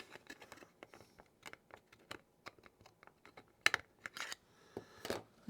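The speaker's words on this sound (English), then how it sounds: "let's try it again with the scissors" Scissors cut plastic parts during a build of a U.S.S. Reliant model kit, giving a quick series of crisp snips and clicks close by, irregular in rhythm, with a few sharper cuts near the end.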